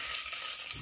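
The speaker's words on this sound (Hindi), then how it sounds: "अब तेल गर्म हो चुका है, अब इसमें तड़के के लिए जीरा डालूंगी, तेज पत्ता डालूंगी" Cumin and bay leaf crackle in hot oil for a tadka, a brief, even, close sizzle.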